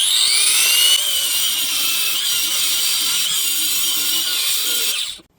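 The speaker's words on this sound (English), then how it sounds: "Grinder is ready. Let's cut into these blocks." A loud angle grinder cuts into concrete blocks, a continuous high-pitched whining grind up close that holds steady for several seconds, then cuts off abruptly near the end.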